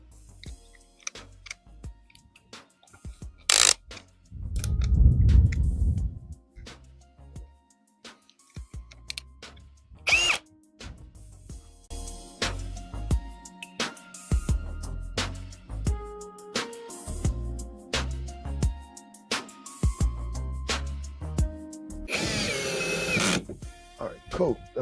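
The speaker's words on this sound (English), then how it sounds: "I drilled those holes, and now I'm gonna put the first screws in," A power drill drives screws during a DIY water station build for ranch animals, giving two brief whirring bursts amid scattered knocks and clatter, with people talking throughout.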